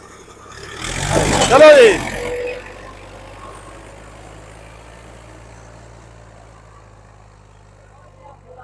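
A tractor engine at a rural tractor pulling contest swells to a loud, close roar and then settles into a low, steady idle hum, with a voice speaking briefly.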